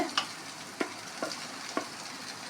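Spice powder being mixed into rice for podi bath in a pan, a low sizzle broken by about five evenly spaced spoon scrapes and taps, close by with no talking.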